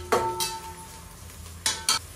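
Onions browning in a pan with whole spices and black pepper, stirred with a utensil: a soft steady sizzle underneath, broken by a few sharp scraping stir strokes, one early and two near the end, close and fairly quiet.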